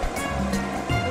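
Water gushes quickly into a Minnie Mouse toy magic sink, a continuous splashing rush that fills the short moment, heard close and fairly loud.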